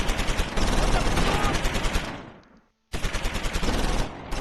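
Rapid gunfire from an 88 gun in the wartime strategy game Close Combat V, a dense, loud burst of overlapping shots that fades out, breaks into brief silence, then resumes just as heavily.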